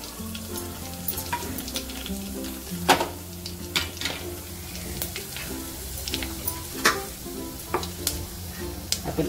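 Fenugreek, cumin and mustard seeds sizzling in hot oil, a continuous crackling fry with scattered sharp pops and occasional clinks of a spoon on the pan.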